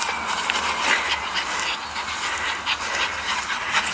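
Several pet dogs pant rapidly and steadily nearby, a continuous breathy rhythm with no talking.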